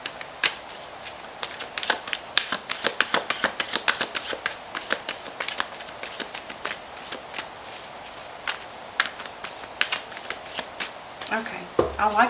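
Tarot cards being shuffled in a rapid, close, crisp riffling flutter that keeps going in bursts, with a brief change in sound near the end.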